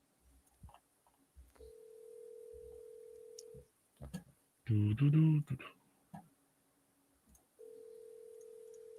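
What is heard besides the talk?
telephone dialing while cold calling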